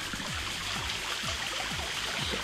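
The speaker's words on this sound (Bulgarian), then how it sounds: "Ето го водопадчето отгоре." A small waterfall near St. George, Bulgaria, flows steadily, a continuous splashing rush with irregular trickles and drops, close by and with no one speaking.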